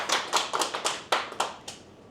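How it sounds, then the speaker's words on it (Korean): A short burst of hand clapping from a small group at a poetry class, with sharp irregular claps close by that trail off within about two seconds. "자 박수 한번 치시죠."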